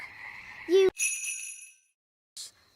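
A cartoon frog turned from a boy gives a short, bright croak amid tinkling magical chimes and ringing tones, with a brief high chirp following after a pause.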